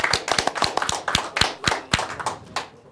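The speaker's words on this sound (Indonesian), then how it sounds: "Tepuk tangan dulu buat Bang Valen." Sharp, close hand claps from an audience at a stand-up comedy show, a brisk uneven burst of individual slaps over three seconds that thins out at the end.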